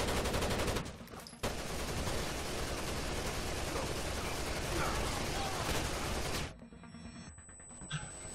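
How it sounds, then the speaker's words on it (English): Sustained burst of video game gunfire from Rainbow Six Vegas 2, dense and loud for about five seconds with a brief break near the start, then cutting off to quieter sparse sounds at the end. "You're sort of shooting at me, I don't like that."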